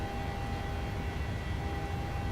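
A PMDG 737-800 climbs out in Microsoft Flight Simulator, its engines giving a steady, loud low roar with a faint tonal whine above, constant throughout without speech.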